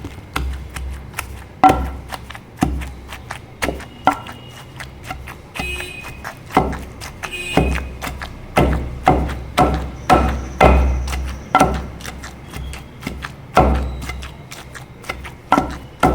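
A stone pestle pounds gongura leaves in a stone mortar for a coarse chutney, a steady series of dull thuds and knocks at an uneven rhythm, close by, with no talking.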